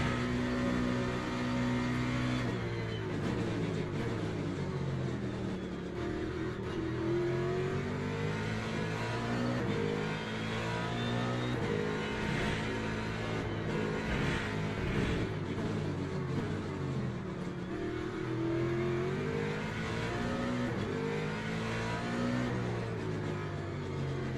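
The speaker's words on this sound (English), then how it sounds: "getting all kinds of rumbling across the curbs" Race car in the Le Mans Ultimate racing game, its engine droning and revving steadily throughout, with a loud, continuous rumble as it runs over the curbs and no talk.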